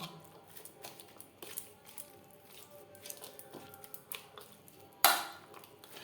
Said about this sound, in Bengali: পেঁয়াজ কুচি মাছ ও মশলার সাথে বেশ ভালো করে মিক্সড করে দিলাম